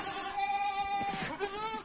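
A young goat kid bleats at close range, a wavering cry running through nearly two seconds over a steady background hum.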